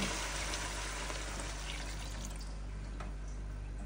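Water poured from a glass into a cooking pot with tomato-based food, a steady close pour that runs throughout the moment without talk.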